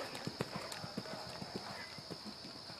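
A racehorse mare is ridden at a canter during an arena riding seminar, her hooves thudding in a steady, close rhythm while a person talks over them.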